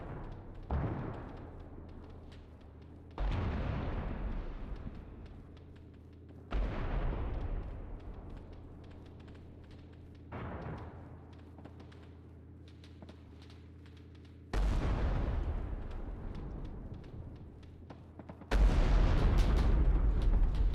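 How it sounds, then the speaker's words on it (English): Artillery shelling in the Arma 3 combat game: a series of about six heavy, booming impacts spaced several seconds apart, each with a long rumbling decay, loud and without talk. "What do you mean they're shelling us after our own artillery strike?"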